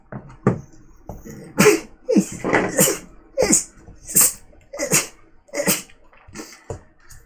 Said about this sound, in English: stupid sneeze